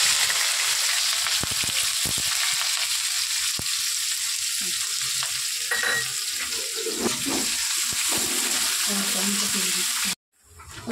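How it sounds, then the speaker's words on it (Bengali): Onions fry in hot oil with a close, steady sizzle, broken by clatters and stirring sounds before cutting out abruptly near the end. "তেল গরম হয়ে গেছে, পেঁয়াজ দিয়ে দিচ্ছি"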